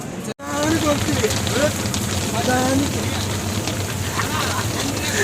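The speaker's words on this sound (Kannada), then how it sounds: "ಗೈಸ್ ಫುಲ್ಲು ಮಳೆ ಬರ್ತಾ ಇದೆ" Heavy rain pours down in a steady, dense hiss, with people talking over it throughout.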